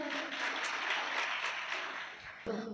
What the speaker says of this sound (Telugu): ఒకసారి గట్టిగా చప్పట్లు కొడదాం